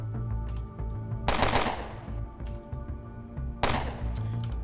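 Gunfire in the video game Underrail comes as two loud, sharp bursts of rapid shots, each followed by a ringing decay, with a low game hum underneath and no talk.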